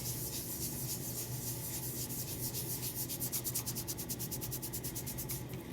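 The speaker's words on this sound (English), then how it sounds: "you take some of your stoma powder and you get it on your skin" Stoma powder is rubbed onto skin by hand in a quick, steady, soft rasping rhythm, faint and close, the strokes speeding into a rapid series near the end with no talk.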